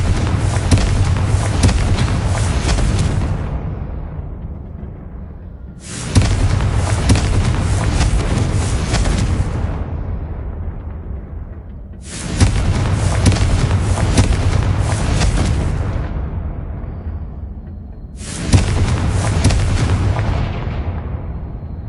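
Four loud Confringo fire-spell blasts from Hogwarts Legacy, each a sharp booming burst that trails off over a few seconds before the next, spaced evenly about six seconds apart with no talking.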